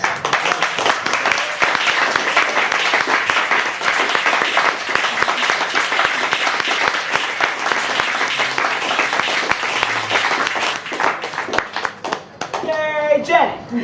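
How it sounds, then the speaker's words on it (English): Audience at a poetry reading at Chicago's In One Ear breaks into loud, sustained applause and clapping that fills the room, with voices cheering and calling out over the claps near the end. "Keep clapping for Jenny!"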